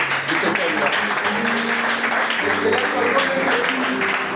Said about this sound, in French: Acclamez un peu pour ces.